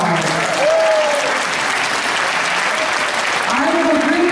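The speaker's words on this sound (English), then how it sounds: "so let's give Mark a round of applause" A small audience at a community band gathering applauds a tenor sax player after a performance, with close, full clapping sustained throughout and brief voices or whoops rising over it.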